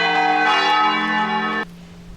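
A large church bell in a small Portuguese town rings loud and close, its long humming overtones sustained before cutting off abruptly, leaving a low lingering hum.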